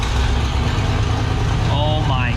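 A 1941 Ford convertible's engine runs on choke, a loud, rough, continuous idle close to the listener. A voice speaks over it.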